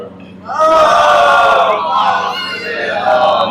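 Congregation at a Shia majlis in an imambargah responding together with a loud, sustained communal chant of salawat, many voices in unison swelling after a brief quieter start and holding for several seconds.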